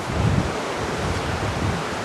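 Bluish glacial river water flowing at Gangotri in Uttarakhand, heard as a steady, broadband rushing wash with no breaks, close and continuous, carrying a low rumble beneath and no voices over it.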